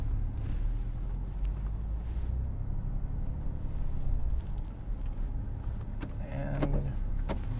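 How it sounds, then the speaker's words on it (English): A 2012 Porsche 911 Carrera S with the PDK automatic backs up in reverse, a steady low drone of engine and cabin noise running throughout with a brief whirring sound near the end. "put it in reverse and we'll start backing up here"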